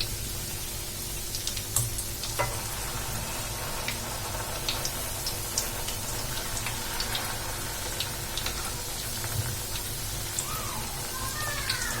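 Chicken and bread snack frying in a pan over a medium flame, a fine, steady crackle like light rain that stays fairly quiet throughout, with occasional sharper pops and clicks.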